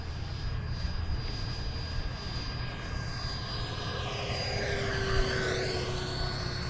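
An FMS Avanti V3 70mm electric ducted-fan RC jet flying at half throttle in a crosswind gives a steady whooshing whine, with a faint distant roar whose pitch slides down as it passes by closer.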